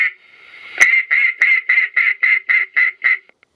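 A remote bird launcher's recorded duck call quacks about ten times in a fast, steady descending series, loud and close, ending abruptly.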